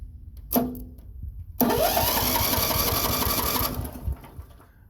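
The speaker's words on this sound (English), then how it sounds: "it cranks over a Briggs & Stratton flathead without any issues" A 12-volt electric starter cranks a Briggs & Stratton flathead snowblower engine: a short first burst, then a loud, steady whirring crank that runs for about two seconds before winding down, close up and with no talking.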